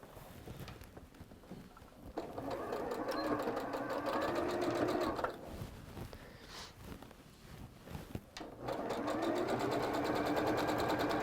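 A sewing machine runs straight stitches along a drawn line on fabric, its steady rapid whirr going in long close bursts with short pauses between runs, loud and alone.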